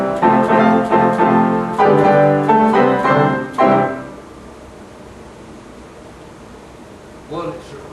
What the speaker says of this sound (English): a piano, a real genuine piano, just over here, mechanically played